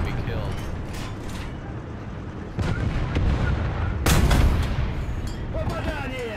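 Anti-aircraft gun firing in War Thunder: repeated heavy booming shots with a loud burst near the end, under a busy combat backdrop, while a voice talks over it.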